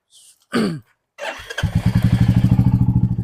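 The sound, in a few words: motorcycle engine being started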